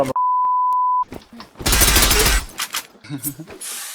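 Automatic gunfire in the online shooter Zula erupts in a loud, dense burst after a steady electronic beep, followed by scattered sharper shots and clatter, with voices faintly under it.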